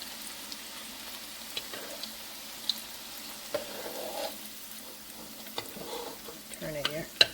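Jalebi frying in hot oil gives a soft, steady sizzle with faint bubbling and occasional light clicks of a utensil turning the pieces, quiet and close, with a brief voice near the end.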